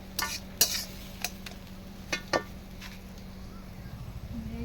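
Ash gourd ghonto is stirred in a pot with a metal spoon: a handful of sharp scrapes and clinks against the vessel over a faint background hum.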